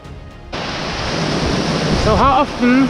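A waterfall in Banff National Park rushes in a loud, continuous roar, with a voice briefly speaking over it near the end.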